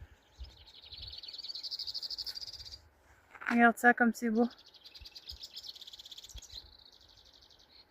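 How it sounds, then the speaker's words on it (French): Birdsong beside a small lake in Los Glaciares National Park, Argentina: steady, high, buzzing trills run continuously, broken midway by a short stretch of a person talking. "le chant des oiseaux"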